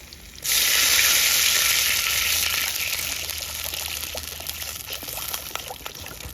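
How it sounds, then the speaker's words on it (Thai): A sudden loud gush as water hits a hot pan, bursting into a roaring sizzle that slowly settles into steady bubbling and crackling. "ครับผมใส่น้ำลงไปแล้วนะครับ"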